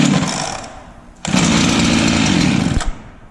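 A gas-powered K-saw engine half-fires during a pull start, a loud, close, rough roar that rises, runs for a couple of seconds and cuts out.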